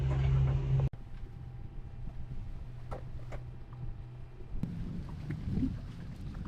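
A sailboat's engines drone in a low, steady hum out at sea, mixed with wind noise and occasional knocks, with no talking.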